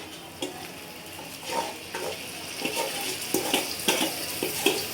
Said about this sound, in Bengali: এই মশলাটা দিয়ে আমি ভালো মতন কষাবো